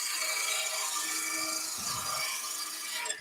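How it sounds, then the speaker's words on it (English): A wood-turning gouge cuts along a spinning wooden blank on a lathe, giving a steady bright hissing scrape that stays loud throughout, then lightens and stops near the end, with no speech. "So it's just using the gouge like a skew"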